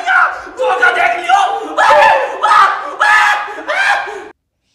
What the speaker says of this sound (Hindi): अरे भाई यहाँ पे तो सांप देखने के लिए भीड़ हो रहा है भाई।